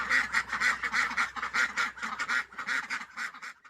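Ducks on a rice-duck farm in China quack in a rapid, repeated series of nasal calls, several birds overlapping in a busy rhythmic chorus that stops near the end.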